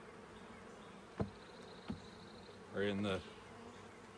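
Honey bees buzzing around an open hive while the honey supers and brood chambers are inspected, a soft steady hum with a brief louder burst of close buzzing, plus a couple of sharp knocks from the frames.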